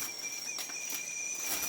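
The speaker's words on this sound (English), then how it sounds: "I can whistle longer than I can." A person whistling two sustained steady tones, one higher and one lower, held evenly for the whole stretch, with faint rustling and clatter in the background.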